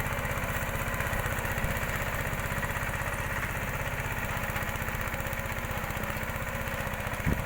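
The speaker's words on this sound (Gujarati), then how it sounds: "મિની ટ્રેક્ટર આપણે આંતરખેડમાં નહીં પણ આ રીતે ખેડમાં પણ ઉપયોગ કરી શકીએ છીએ" A Steeltrac mini tractor engine runs steadily while ploughing a field, producing a continuous, loud, even drone with a fast regular pulse that stays constant throughout, with no voices.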